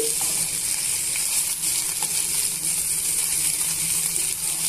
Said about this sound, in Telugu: ఫ్లేమ్ని మీడియం టు లో అడ్జస్ట్ చేసుకుంటూ ఫ్రై చేసుకోండి